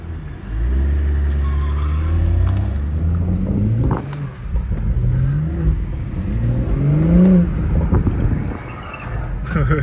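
BMW 340 accelerating hard through rush-hour traffic, heard from inside the cabin as a steady engine drone that rises in pitch through repeated revving climbs, with voices talking over it.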